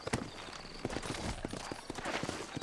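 Horses walking in the video game Red Dead Redemption, a quiet, steady clip-clop of hooves with irregular overlapping beats in a dusty town setting.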